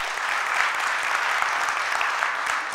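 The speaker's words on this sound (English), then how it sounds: "So let us give a big round of applause for the leadership team." Sustained audience applause for a business chapter's leadership team, a dense steady wash of many hands clapping at even loudness throughout, with no talk over it.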